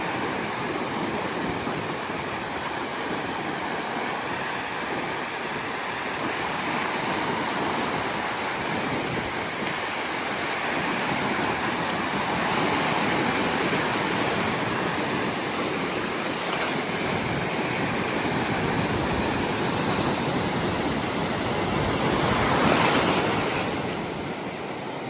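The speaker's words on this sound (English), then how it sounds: "So this is the beach. As you can see, the waves are" Ocean waves roll onto the shore at Topsail Beach near sunset, a steady broad roar of surf with wind noise throughout, swelling slightly near the end, with no voices.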